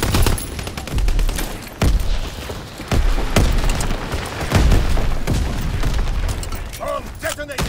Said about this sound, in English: Bomb detonated!